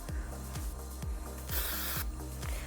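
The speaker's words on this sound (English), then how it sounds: "So you're getting that spray paint effect." An aerosol spray paint effect applied for make-up FX on a person's neck and collarbone: a bright, airy hiss swells for about half a second over faint rhythmic rubbing and low background noise.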